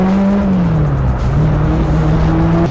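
A 1991 LCC Rocket sports car driving, its engine droning loudly and steadily close by, with the pitch dipping and then rising slightly as it runs, and no talking.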